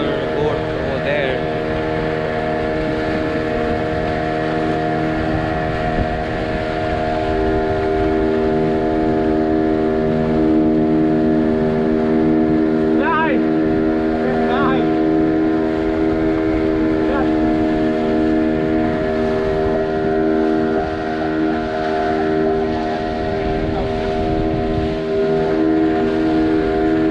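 A cruise boat's motor runs on the Arabian Sea off Palolem Beach in Goa, a loud steady droning hum that continues unbroken throughout, with faint voices now and then.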